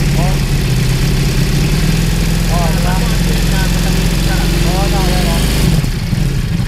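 Ducati Multistrada V4 motorcycle with the catalytic converter deleted, its engine running loud and steady throughout with a deep low drone, briefly cut off near the end, while people talk over it.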